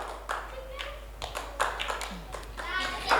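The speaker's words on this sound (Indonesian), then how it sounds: "Berikan tepuk tangan untuk Rashid." Children and adults clapping hands inside a mosque during a Ramadan gathering, a short burst of scattered claps mixed with talking voices.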